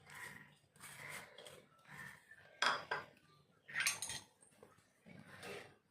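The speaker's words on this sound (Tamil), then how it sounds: "இதை நல்லா மிக்ஸ் பண்ணி விட்டுக்கலாம்." Grated coconut is stirred into banana paniyaram batter, giving a close series of soft scraping, thudding strokes of a spoon in a bowl at an uneven rhythm.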